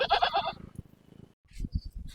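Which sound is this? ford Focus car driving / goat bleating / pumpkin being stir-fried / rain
goat bleating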